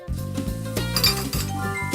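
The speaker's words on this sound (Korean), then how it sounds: "마지막 설거지 소음이 가장 컸는데요" Dishes, pots and cutlery clink and clatter steadily during washing up in a home kitchen, a dense run of close metallic and glassy knocks with no voices.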